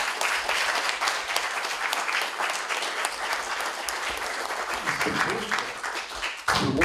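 Sustained applause from a Polish audience honoring the hosts, a married couple, at a cultural talk evening; dense, steady clapping fills the clip, with a brief shift near the end.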